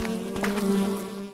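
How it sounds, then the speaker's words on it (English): Bees buzz steadily and close by, a continuous droning hum that swells slightly before fading at the end. "Look! Bees!"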